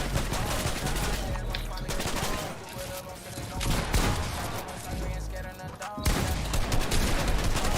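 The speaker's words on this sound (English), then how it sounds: "Keep on shooting." Rapid, continuous Fortnite gunfire, dense bursts of shots close and loud throughout, with a brief pause before shooting resumes.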